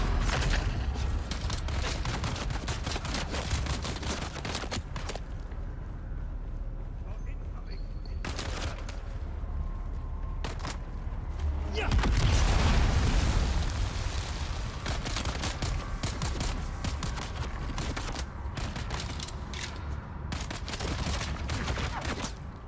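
Turret gunfire in the video game Dune Awakening comes as rapid automatic bursts and repeated shots with booming impacts. A player talks over the fighting.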